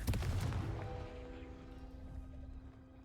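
A Confringo blast spell in the Hogwarts Legacy video game, a loud explosive burst at the start that fades into a lingering ringing tail over a few seconds.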